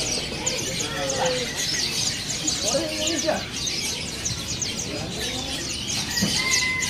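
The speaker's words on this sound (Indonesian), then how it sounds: "Di sini ada burung perkutut" White and cemani perkutut zebra doves call inside a bird shop: soft coos and scattered chirps mixed with a busy, steady background of other birds and voices.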